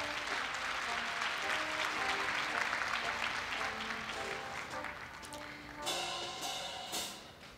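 Large audience applauding at a Korea University entrance ceremony, a thick continuous wash of clapping in a big hall that carries on throughout with a slight swell near the end.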